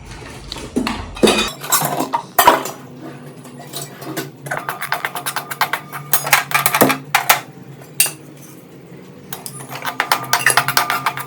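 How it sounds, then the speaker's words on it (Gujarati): Gram flour roasted in ghee in a pan while making Surat ghari sweets, with irregular metallic clinks and scrapes of a spoon against the pan in bursts and pauses, close and fairly loud, no talk. "હવે આપણે શેણાનો લોટ શેકી નાખવાનો છે ઘીમાં"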